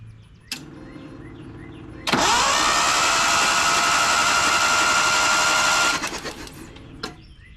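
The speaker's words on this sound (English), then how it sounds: "you guys are gonna watch the engine while I spin it over" A 1979 Datsun 620 truck engine, unrun for 19 years, cranks over with a steady whirring drone for about four seconds, then stops abruptly with a few rattling clicks.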